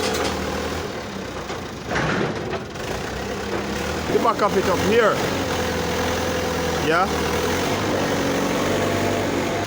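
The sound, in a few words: tractor engine pushing a truck onto a truck body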